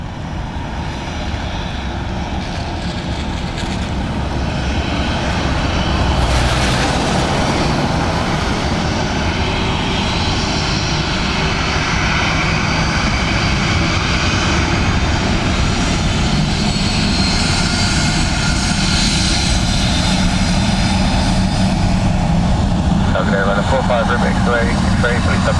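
An airliner landing on runway 28 left at Dublin Airport makes a steady, loud engine roar that runs the whole time, with air traffic control radio voices talking over it.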